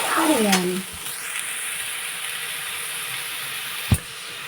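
Ridge gourd is stirred in a frying pan with tomato curry, giving a steady sizzling hiss with scraping stir strokes early on and a single clack of the utensil near the end, close and loud without talk.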